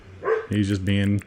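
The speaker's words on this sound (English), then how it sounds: "sorry if you hear the dog barking" A pet dog named Charlie barks in two loud, close bursts indoors, the short yips overlapping a man's casual speech during a game stream.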